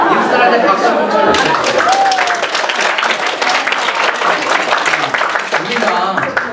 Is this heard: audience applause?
yes